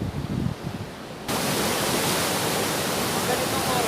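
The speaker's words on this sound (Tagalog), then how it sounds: "Pag ganitong oras, malakas ang alon." Strong waves surge at Patungan Beach, a dense broadband roar of surf close by that swells loud after a quieter stretch with a voice speaking at the start.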